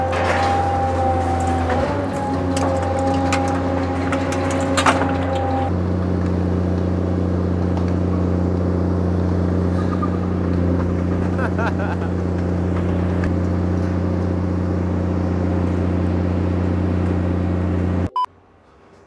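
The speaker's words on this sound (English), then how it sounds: "the ram that we're almost standing on is 7 metres long, and that is now driving up the bed of the machine, making that long bale now into a compressed box" A seven-metre hydraulic ram on a scrap metal baler drives up the machine bed, compressing crushed cars into a bale: a loud, steady mechanical hum and drone with a brief clank early on, continuous until it cuts off near the end.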